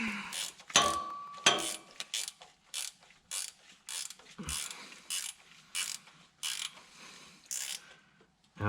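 A hand ratchet clicks in a steady rhythm of short bursts, close and fairly quiet, while tightening a bolt during a starter replacement on an International S1654 truck.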